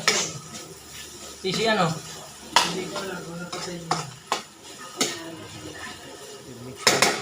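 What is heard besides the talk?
mixing egg into sautéed bitter gourd (ampalaya) in a pan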